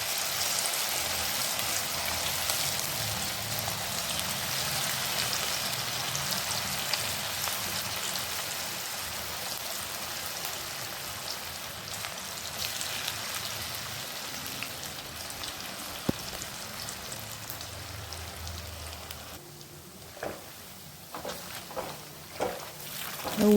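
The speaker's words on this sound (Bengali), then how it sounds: "এবার কপিগুলোকে দিয়ে ভেজে নেব।" Cauliflower pieces for a Bengali fulkopi 65 starter fry in hot oil in a kadai, giving a steady, dense, close sizzle throughout, with a few sharper pops and clatters near the end.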